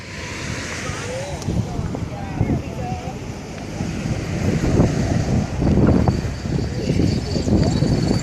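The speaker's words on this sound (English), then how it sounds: "the wind is gonna be a bugger" Gusty outdoor wind buffets the microphone in a steady, fairly loud low roar that swells and eases, stronger toward the middle, with faint indistinct voices in the background.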